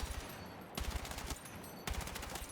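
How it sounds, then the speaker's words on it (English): M433 assault rifle fired in Battlefield 6, three bursts of rapid, punchy automatic shots separated by brief pauses, close and loud, with no talking. "So when you shoot it and you pull it down a little bit, it is super accurate."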